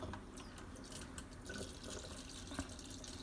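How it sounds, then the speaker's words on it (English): Quiet trickling and dripping of rice rinse water being drained off, a soft continuous pour with a few small splashes, faint and steady throughout. "So now I'm just gonna take that water off."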